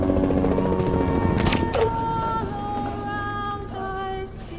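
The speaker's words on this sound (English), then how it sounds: "a helicopter passes overhead" A helicopter passes overhead in a dramatic TV scene near a funeral, its rotor drone mixing with a swelling choir and other score, loud and continuous before tapering slightly.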